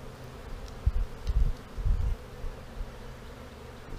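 Honeybees drone in low bursts around an open hive during Snelgrove board work, the hum swelling and fading as bees pass close, over a steady quiet background.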